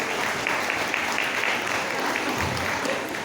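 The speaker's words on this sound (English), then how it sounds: "Give a nice little clap." An audience at a sheep shearing show gives a brisk, steady round of clapping, close and fairly loud throughout the short burst.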